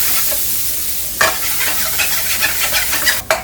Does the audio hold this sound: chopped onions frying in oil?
yes